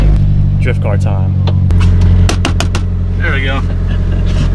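A Nissan 350Z drift car engine hums steadily underneath while people talk over it on a backroad, with a few sharp clicks and thumps breaking in.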